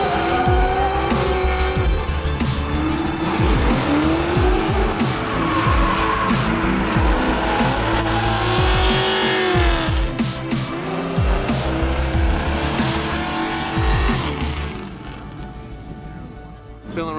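Drift cars at a Southwest Drift round, including a V8-powered Nissan 240, scream past with loud sustained tire squeal and roaring engines, the noise fading near the end.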